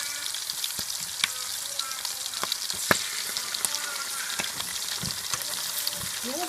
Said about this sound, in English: Now I'm going to add the tomato paste.